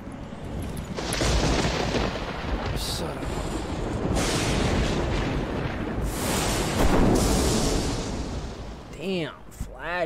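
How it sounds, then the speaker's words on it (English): A flashbang goes off in Sekiro: Shadows Die Twice, a loud burst followed by a long ringing, rumbling wash of game sound. Someone speaks near the end. "Flashbang, bro."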